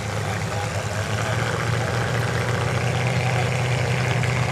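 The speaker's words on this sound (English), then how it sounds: "Listen to those engines. They are pumped." Demolition derby cars idle together before the countdown, a steady low engine rumble and vibration held throughout with no break, close and fairly loud.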